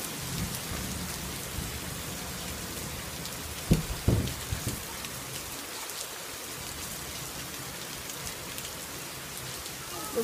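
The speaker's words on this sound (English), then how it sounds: "The rain now, it's getting well bad." Heavy rain pours steadily during a thunderstorm, a dense close hiss broken by a few sharp knocks and thuds near the middle, with no talking.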